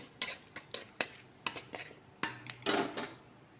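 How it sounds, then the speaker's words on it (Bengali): Raw mango pieces going into a pan with turmeric and salt for sweet chutney, a run of close clattering knocks and scrapes of utensil against the pan, with a brief soft sizzle at the end. "এর মধ্যে আমগুলোকে ঢেলে দেবো।"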